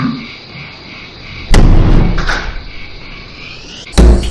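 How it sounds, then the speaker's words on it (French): A door slams shut with a sharp, loud bang, followed by a second heavy thud a few seconds later, indoors and close by. "Ma porte a claqué."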